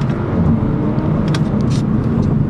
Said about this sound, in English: we're gonna go down to second gear, punch it.